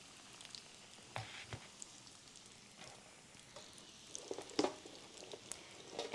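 Food frying two pieces at a time in a skillet of 400-degree oil in a garage, a faint, steady crackle and patter with occasional louder pops, heard close and alone.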